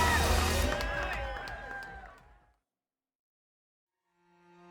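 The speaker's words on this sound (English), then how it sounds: "A round of applause for your 2024 Lifetime Grand Prix presented by Mazda Athletes." A crowd at the 2024 Life Time Big Sugar Gravel race cheers and applauds the Grand Prix athletes. The mixed claps and whoops fade out over two seconds, followed by silence.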